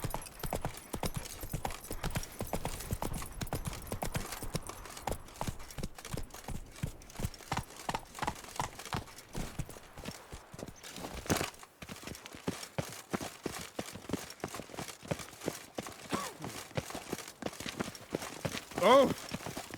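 In The Witcher 3 game, a horse's hooves clip-clop in a steady, fast rhythm throughout, with the occasional voice speaking over them.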